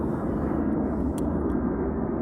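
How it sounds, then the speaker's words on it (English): A loud airplane passes overhead, producing a steady low, broad rumble that fills the whole stretch with no break. "That airplane loud as hell."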